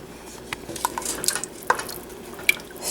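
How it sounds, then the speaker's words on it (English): Spoon stirring hamburger soup with Swanson's beef broth in a pot, with soft scraping and a few sharp clinks of utensil against the pot over a quiet wet background. "Stir it around, make sure you get everything all mixed in really good."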